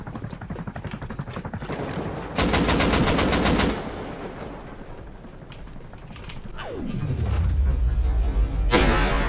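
Rapid automatic AK rifle fire in the survival game Rust rings out in a dense burst, then a second volley, loud and close, amid game noise and a rising mechanical whine.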